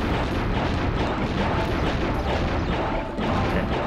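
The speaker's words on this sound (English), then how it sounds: "It's just all explosions." Loud, continuous barrage of video game explosions and booming blasts, overlapping densely with no pauses.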